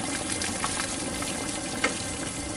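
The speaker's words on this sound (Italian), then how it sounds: "Naturalmente aggiungerò un po' di acqua bollente, perché l'acqua della pasta sta bollendo" Boiling pasta water is poured into a tomato sauce with green beans in a home kitchen, a steady, close hiss and splash that runs evenly throughout.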